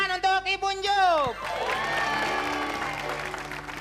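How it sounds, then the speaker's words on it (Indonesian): A crowd breaks into applause and cheering right after an excited voice, the clapping steady and fairly loud through the rest. "tepuk tangan untuk Ibu Njup"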